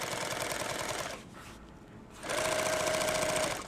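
Close sewing machine stitching a kit bag, a fast steady whirring run that pauses briefly, then resumes at the same pace; no voices.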